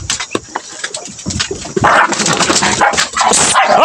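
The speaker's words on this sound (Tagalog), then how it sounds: "Ito yung mga aso ko mga kaidol." Several dogs bark loudly and close by in an excited, overlapping burst, mixed with yips and whimpers that build into a dense chorus toward the end.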